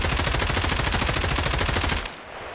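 A cheap M4 rifle without a suppressor fires in Escape from Tarkov, a loud rapid full-auto burst of close, evenly spaced shots lasting about two seconds before cutting off into a brief echoing tail.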